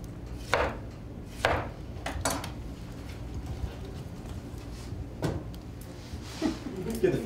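Knife cutting a tomato into quarter-inch rounds on a board, a few distinct sharp chops spaced irregularly, close and moderately loud over a low room hum.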